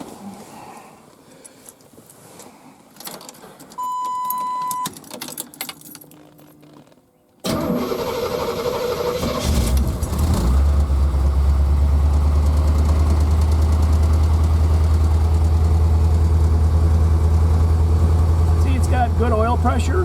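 A 1984 Corvette Z51 with a 5.3 LS V8 swap, running rich, cranks briefly after some clicks, catches and settles into a loud, steady, close idle; someone talks before it starts.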